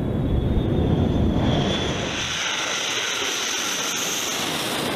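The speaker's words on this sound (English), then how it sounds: "Approaching the runway at a speed of 150 knots, the aircraft employs its advanced braking systems to bring its massive frame to a stop." A B-1 supersonic bomber comes in to land on a runway, its jet engines roaring loud and steady with a broad rushing hiss that eases slightly midway and then holds.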